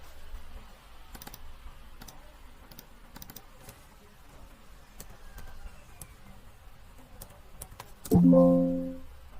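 A number is typed on a computer keyboard in scattered, quick clusters of light clicks over a quiet room hum, followed by a short louder tonal sound near the end.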